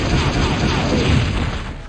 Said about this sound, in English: Doing a quarter circle forward motion in 2 kicks has Jill pull out her rocket launcher.